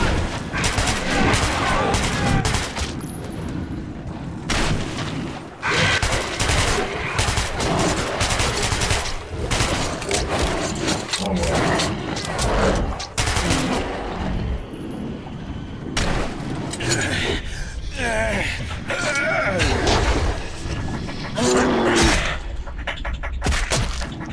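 Heavy gunfire in the video game Metro 2033 Redux, with dense, sustained bursts of shots and booms roaring loud and continuous throughout, while voices shout underneath.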